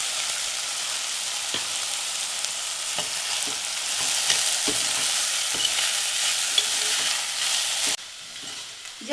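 Horse gram fries with softened tomato in a pan, giving a steady bright sizzle broken by scraping stirs and light taps of a spatula. The sizzle drops suddenly near the end.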